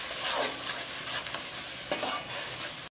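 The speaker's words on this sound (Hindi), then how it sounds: "मसाला को भूंजेंगे अच्छे से," Masala for a desi-style fish curry being stir-fried in a pan, a steady close sizzle with repeated scraping strokes of a spoon, ending abruptly.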